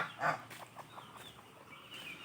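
Chickens cluck and call at a farm in a few short bursts, one louder squawk near the start followed by quieter scattered clucks against a faint background.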